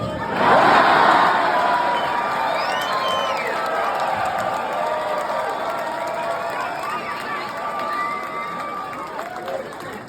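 A large crowd cheers and shouts at a Pierre Poilievre political rally at the Caboto Club in Windsor, loud at first, then settling into a sustained roar.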